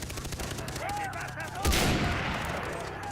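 Pistol shots from a double-pistol weapon in the video game Far Cry 3, loud close bursts with a sharp blast partway through, amid game sounds.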